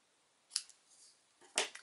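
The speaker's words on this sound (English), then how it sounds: "just take your scissors or your snips and cut off the tails" Scissors snip the ribbon tails on a handmade card tag in two quick, crisp cuts, close and clear in a quiet room.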